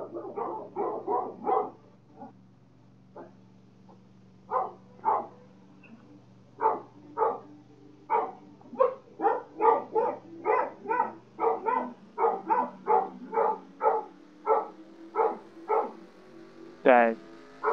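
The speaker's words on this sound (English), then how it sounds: "don't know what the dogs are barking at" Several dogs bark repeatedly in short, loud bursts at a steady uneven rhythm, with a low engine drone from a racing game running steadily underneath and a brief sharp yelp near the end.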